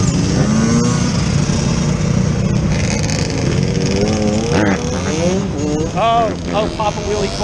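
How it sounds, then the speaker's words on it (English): Wheelie dirt bikes rev and ride past on a Philadelphia city street, loud and close, with rising and falling whines of several engines over traffic rumble and people talking. "Outlaw wheelie bikers. Here they come."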